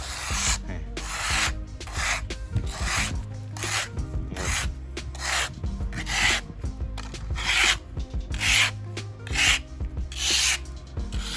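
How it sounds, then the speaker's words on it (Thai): Sand being scraped off an engine oil stain on the ground with a scooping tool, a rhythmic series of rough, gritty strokes repeating steadily, close and fairly loud with no speech. "แล้วก็ขูดขูดออกแบบนี้เลย"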